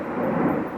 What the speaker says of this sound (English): And that is an airplane.